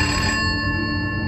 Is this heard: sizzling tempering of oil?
no